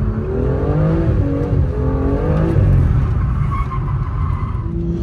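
A car engine drones and rises in pitch after the clutch is engaged, loud and close with a steady rumble and gliding harmonic tones throughout.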